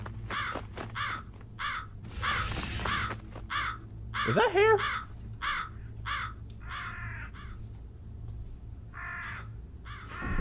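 Repeated crow caws from the horror game Jisatsu ring out in a steady series of short, harsh bursts, fairly close, while someone talks over them in places.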